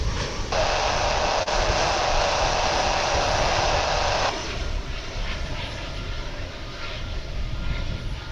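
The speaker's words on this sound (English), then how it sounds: "It's an American Airlines A319 flight" An American Airlines Airbus A319 landing at DFW from Querétaro gives a loud, sustained jet roar, with a brighter whine over the first few seconds before it settles into a steadier rumble.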